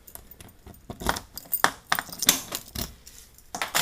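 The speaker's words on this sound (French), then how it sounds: "Et on a une ouverture de selle à clé qui est juste là." Key turning in the seat lock of a TGB Target 325 scooter, heard as a quiet series of irregular metallic clicks and jingles close up, with no talking.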